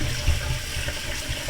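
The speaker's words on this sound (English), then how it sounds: "bring it over to a sink and put it into a strainer and run hot water over it." Hot water runs steadily from a sink tap over browned ground beef sitting in a strainer, a constant splashing rush that carries on without pause from start to end.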